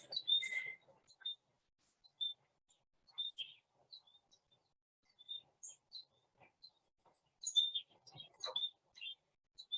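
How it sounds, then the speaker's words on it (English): A black-capped chickadee and young goldfinches call in Minnesota: scattered thin, high chirps and tweets come in short bursts, clear against near silence and moderately close. "So it's picking up a black-capped chickadee, young goldfinches."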